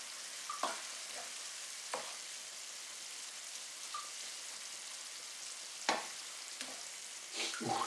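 Spaghetti bolognese sauce with wine simmers in a pan, giving a steady close sizzle and bubbling with a few sharper stirring clatters scattered through.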